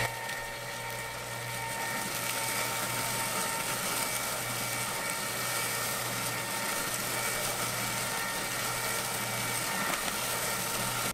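A Nostalgia 4-quart electric ice cream maker's motor running, churning in a salt-and-ice-packed tub, giving a steady close mechanical hum and whir with a constant low drone and no pauses, cutting off abruptly at the end.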